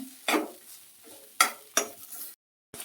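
Grated coconut, about one bowl, dry-roasted and stirred in a pan for a mango chilli dish, making dry scraping and rustling strokes with several distinct spatula scrapes, close and fairly clear, with no talk.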